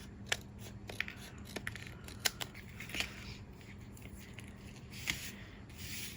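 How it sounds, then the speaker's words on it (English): Scissors snipping paper on a craft table: quiet, close, irregular little clips and rustles scattered over a low steady background hum, with no voices. "use our scissors here"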